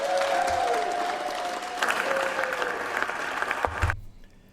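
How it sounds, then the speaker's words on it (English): Applause breaking out in the US Senate chamber as a bill passes, dense sustained clapping with some crowd noise and a brief tone, cutting off sharply near the end. "Everybody's clapping like this is some big rescue plan"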